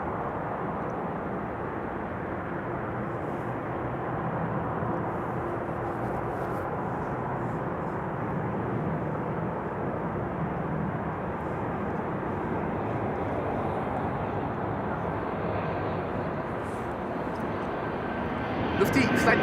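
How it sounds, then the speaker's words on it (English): A Lufthansa Airbus A319 arriving from Munich lands at Amsterdam Schiphol Airport: a loud, steady, broad jet roar that holds for the whole stretch and swells slightly at the end, with muffled voices underneath. "Lufthansa flight 2302 arriving from Munich. A319."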